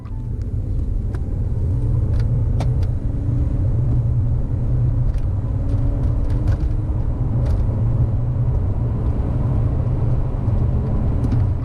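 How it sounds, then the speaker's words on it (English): An Audi 2-litre diesel car pulls hard from 30 to 70, with a loud, steady low engine rumble and road noise from inside the cabin, and a few small clicks and rattles. "So, what can a 2-litre diesel pulling a bit of heft manage on the 30 to 70 sprint?"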